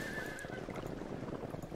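A horse in the fantasy video game Sacred lets out a short, faint whinny at the start over a low, steady game ambience.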